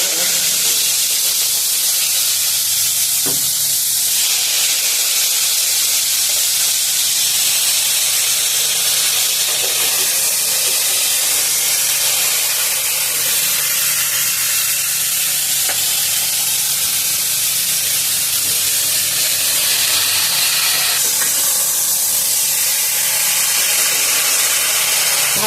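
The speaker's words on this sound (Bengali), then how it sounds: "সিমটা একটুখানি ভেজে নিই," Boiled flat beans fry in a hot pan with a loud, continuous sizzle and steady hiss, occasional stirring scrapes breaking through, close up and without any voices.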